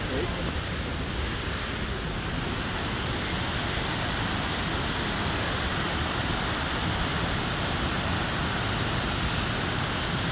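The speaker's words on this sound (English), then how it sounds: "there's just a series of one waterfall after another" Steady, loud broadband rush of a waterfall along a steep hiking trail in January, continuous and close throughout with no break.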